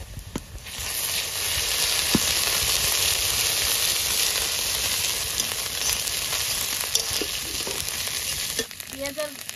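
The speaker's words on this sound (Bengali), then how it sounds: "পেঁয়াজের সঙ্গে আদা রসুনটা একটু লাল লাল করে ভেজে নিয়েছি" Onion frying with ginger garlic paste in a pan, a steady loud sizzle with hiss and occasional stirring scrapes, no talking.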